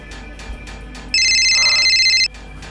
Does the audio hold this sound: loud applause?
no